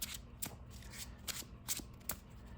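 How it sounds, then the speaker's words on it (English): A deck of playing cards for a tabletop card game is shuffled by hand, giving several quick, crisp riffling bursts in an uneven rhythm. The sound is close and quiet, with no one talking. "So let's get these shuffled up."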